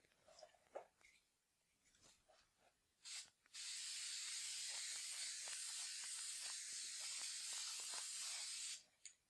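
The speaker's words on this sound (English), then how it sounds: "So Super 77 is what we're using, and I'm just going to spray the entire surface of this" Super 77 spray adhesive hisses out of an aerosol can in one long continuous burst of about five seconds, close and steady, after a couple of short taps and handling noises.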